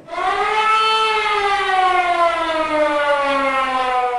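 An Estonian nationwide civil defense warning siren sounds during a test: one loud, steady wailing tone whose pitch slowly falls, sustained alone with no voices.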